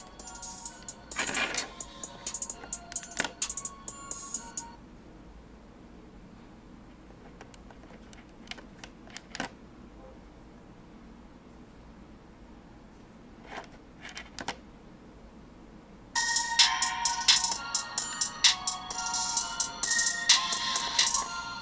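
A ringtone plays at maximum volume through Bose Frames audio sunglasses, heard as bursts of bright, tinny electronic melody at the start and again near the end. Small ticks and taps fill the quieter stretch between them.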